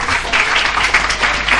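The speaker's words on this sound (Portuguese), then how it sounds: "Eita, Naruna Costa, um aplauso para ela" An audience at a talk with a Brazilian writer claps in a brief, close, fairly loud burst of applause for Naruna Costa, with a steady wash of hand claps.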